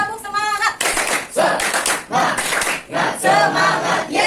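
A classroom group claps in quick rhythmic bursts while chanting together loudly, the claps and voices interleaved in short energetic phrases.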